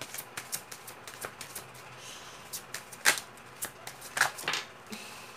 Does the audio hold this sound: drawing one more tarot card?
yes